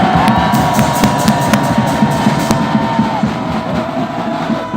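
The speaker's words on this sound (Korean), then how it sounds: "성원을 가득 담아서 함성 한번 부탁드립니다" A large outdoor crowd at a political rally in front of Daehanmun cheers and shouts together in one loud, continuous roar with scattered whoops, held steady and only easing slightly toward the end.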